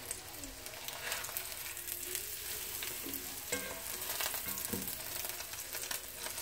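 Chicken breast, shaped like a heart and just flipped, fries in a pan with a steady sizzle, punctuated by light crackles and a few clicking pops, close and moderately quiet with no talking.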